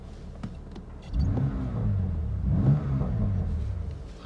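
2019 BMW M2 Competition engine revving, a short burst of throttle after a quiet start, with a second rev following, moderately loud inside the car.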